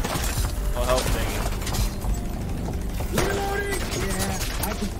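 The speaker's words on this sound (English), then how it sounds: "Reloading!" A weapon reloads in the video game The Division 2, with mechanical clicks and metallic clatter of the magazine and action under game noise and a brief voice.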